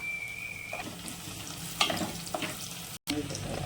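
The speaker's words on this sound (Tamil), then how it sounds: "ஒரு கையளவு பூண்டு சேர்த்துக்கலாம் நல்லா வதக்கிக்கலாம் கட் பண்ணி வச்சுருக்க சின்ன வெங்காயம் அதை சேர்த்துக்கலாம்" A handful of garlic and chopped shallots sauté in oil in a pan, producing a steady close sizzle with a few stirring clatters and a momentary dropout near the end.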